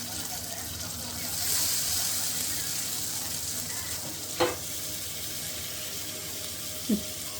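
Spring onions fry with spices in a pan, making a steady, fairly loud hiss and sizzle throughout, broken by a couple of brief knocks.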